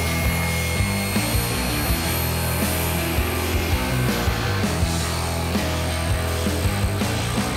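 A power saw cuts through wood during a risky woodworking technique, a loud, steady mechanical roar with a constant whine that holds for several seconds without pause.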